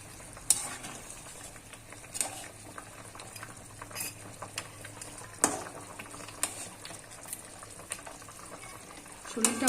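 Fish frying in mustard oil in a pan, with steady sizzling and bubbling close by, broken by occasional clinks and stirring sounds; no voice.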